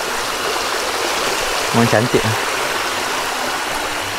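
A hill stream flows beside a wet, slippery downhill forest trail with a steady, full rushing wash that carries on throughout. Someone speaks briefly over the water.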